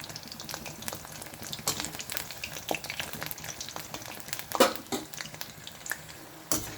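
Coated brinjal slices frying in oil, a steady crackling sizzle with scattered louder pops and light utensil clinks.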